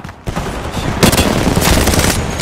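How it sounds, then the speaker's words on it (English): A knuckle cluster launcher firing in a video game: a dense, loud rapid-fire burst of cracking shots rolling into continuous booming clatter. "Launching me knuckle cluster."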